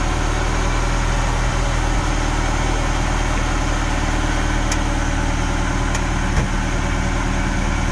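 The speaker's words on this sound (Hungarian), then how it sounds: "És beindították a Ferrarit is. Csak hogy egy kicsit lehessen hallani a hangját." A Ferrari idling at a year-end retro classic car meet in 2022: a steady, close, unbroken engine rumble with constant low drone and broadband noise, no voices over it.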